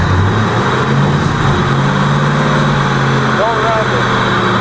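A long-stored Ford Mustang Mach 1 engine runs loud and close after starting, holding a rough, steady idle while people talk and shout over it.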